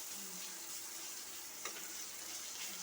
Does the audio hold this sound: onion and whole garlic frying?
yes